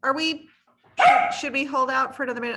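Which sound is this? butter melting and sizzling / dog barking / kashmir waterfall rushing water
dog barking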